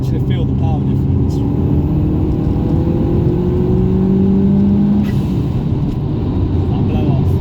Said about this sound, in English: If I do boot it, you get the blow off sound.